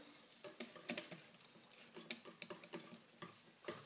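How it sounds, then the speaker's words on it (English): Calendula petals whisked into a soap mixture in a bowl: quick, close clinking and tapping strokes of a metal whisk in a rapid, uneven patter, fairly quiet with no voices. "I'll use the whisk first. Whisk it in."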